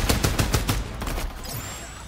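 Quick burst of automatic gunfire in the shooter game Farlight 84, about half a dozen rapid shots in the first second, then fading to quieter background noise, with no voices.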